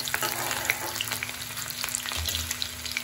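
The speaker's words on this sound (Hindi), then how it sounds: "तेल गरम हो गया है। इसमें मैं प्याज और हरी मिर्च डाल दी थी।" Onion and green chili frying in hot oil for peeli matar chhole, a close steady sizzle with crackling pops and soft stirring scrapes.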